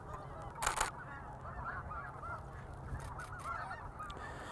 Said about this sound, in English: it looks like a pattern of snow geese overall